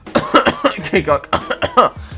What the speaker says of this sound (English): I've just got a bad cough